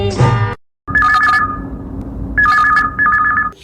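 A telephone bell trills in two bursts, loud and close, with a pause between rings, following a brief snatch of music at the start.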